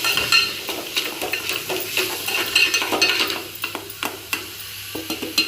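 Mutton keema being stirred as it fries in a pan, steady sizzling broken by repeated scraping and clattering strokes of a spoon against the metal, close and fairly loud.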